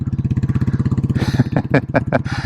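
Royal Enfield Classic 350 motorcycle with a cam, FuelX, DNA filter and full exhaust pipe, idling with a steady loud thumping pulse, then blipping the throttle in several sharp revs close by, with no talk.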